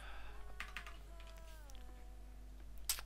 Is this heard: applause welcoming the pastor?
no